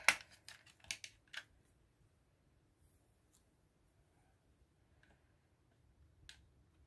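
Scissors snip a short length of colored yarn for a pom-pom, a few quick, crisp cuts clustered near the start, then mostly quiet with one faint click later.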